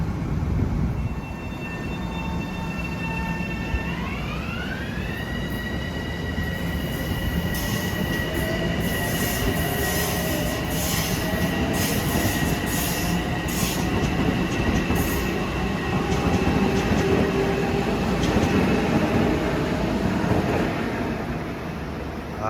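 Long Island Rail Road commuter train rolling through Forest Hills station during morning rush hour, loud and close with squealing wheels, a rising horn-like tone and steady rail clatter throughout.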